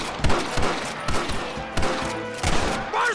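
Rapid gunfire bursts in the Western video game Red Dead Redemption, several sharp overlapping shots cracking close and loud in uneven volleys over about three seconds, with no talk over them.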